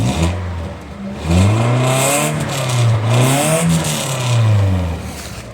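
A Nissan 200SX engine revs repeatedly in loud, close rising and falling sweeps, several throttle blips climbing and settling back toward idle, with no talk over it.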